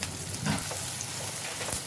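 Whole spices, curry leaves and green chillies with turmeric, chilli powder and coriander powder frying in a clay pot, a steady close sizzle and crackle with no voices.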